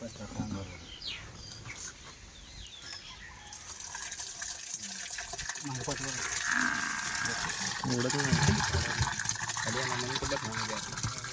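Cow dung mixed with water is poured slowly into a container outdoors on a farm, a steady wet sloshing pour that grows louder over the clip, with people talking and birds in the background.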